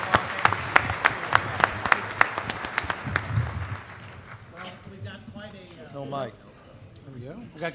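An audience claps, sharp individual claps clearly audible for a few seconds before fading as a voice begins speaking.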